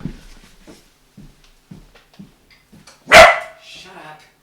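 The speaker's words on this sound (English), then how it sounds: "Barking." A dog gives a single loud, sharp bark after a stretch of quiet, scattered speech, followed by a brief softer trailing yelp.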